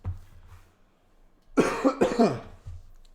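A person coughs in a quick cluster of harsh, close bursts after a moment of near silence, then it quiets again.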